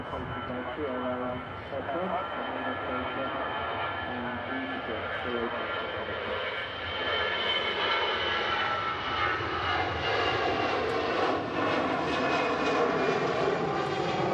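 An airliner on its takeoff roll at Manchester Airport, bound for Paris, its engine roar steady and building louder with rising whine, heard from a distance with people talking over it.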